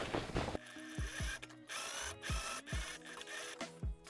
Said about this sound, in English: And now I can just top stitch right on top of that black line that I did before